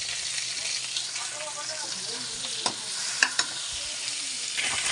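Carrots and cabbage stir-fry for pancit chami in a hot pan, a steady loud sizzle with scraping stirs and a few sharp clicks of the utensil, close up.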